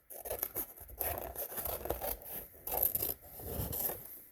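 Scissors cut around a plastic bottle in a quiet room, leaving an inch of margin. The snips come as soft, irregular crinkly bursts and scrapes with short pauses between them, and no one talks.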